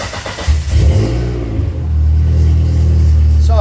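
The engine of a Dodge Neon stock car cranks and catches, revs up hard for about a second, then settles into a loud, steady idle close by.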